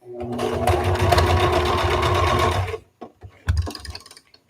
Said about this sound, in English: I literally stitched to the very, very end, and then I came off.